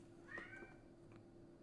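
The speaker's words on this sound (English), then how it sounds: "It's not the computer, it's my cat." A cat gives a single faint meow over a steady low background hum, with no talking.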